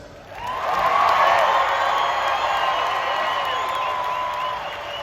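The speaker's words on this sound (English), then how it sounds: "Huge round of applause for all of our vets." A large concert crowd claps, cheers and whoops for military veterans at an event in Cheyenne, the noise swelling quickly after a quiet start and staying loud and sustained, with shouts rising over the clapping.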